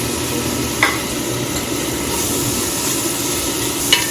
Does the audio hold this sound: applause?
no